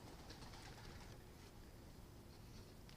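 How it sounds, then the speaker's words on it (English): Pigeons or doves cooing outdoors, faint and distant beneath a steady broadband wash of background noise, with no speech. "Crazy birds."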